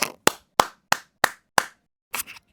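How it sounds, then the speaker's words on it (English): Hand clap sample from Sampla.ai, repeated as six sharp, evenly spaced dry claps, followed by a softer double clap after a short pause, close and loud with nothing else behind. "That's the hand clap"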